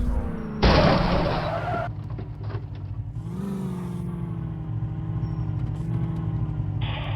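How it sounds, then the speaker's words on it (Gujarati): A car crash in a video game: a loud burst of impact noise followed by a continuous engine drone with shifting pitch and a few clanks, all fairly close and with no talk. "જો એ હાલે મોટું જબર એક્સિડન્ટ થઈ ગયું"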